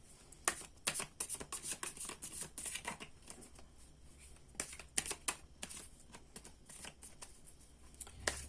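Tarot cards being shuffled and pulled for a pick-a-card reading: quiet, close riffling and snapping bursts in irregular clusters, with soft slaps and taps between, no voices.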